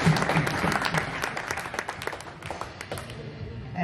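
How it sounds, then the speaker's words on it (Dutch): Audience applauding a competitor introduced at a Dutch veterans' shooting championship final, a brisk round of clapping with distinct claps near and far, faint voices underneath, holding steady for a few seconds. "Graag jullie applaus voor Peter."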